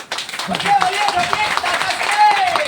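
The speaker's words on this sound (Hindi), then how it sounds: "आप अपने लिए ताली लगा लीजिए" An audience clapping, a steady patter of many hands close by, mixed throughout with a voice talking over it.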